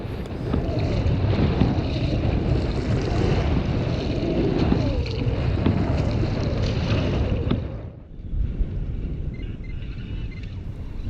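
Strong wind buffeting the microphone while a kayak is paddled straight into it off the Outer Banks of North Carolina, a loud continuous roar with water wash that briefly drops near the end.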